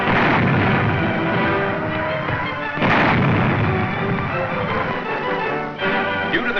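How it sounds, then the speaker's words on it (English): Canadian tanks firing their guns near Ypres in 1944, heavy booming reports over a continuous rumbling din, with a sharp loud blast near the middle and another toward the end. "Near Ypres, Canadian tanks clear the way with their guns."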